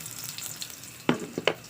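Chopped garlic dropped into a pan of hot cooking oil, giving a couple of short, close sizzling bursts over an otherwise quiet kitchen background.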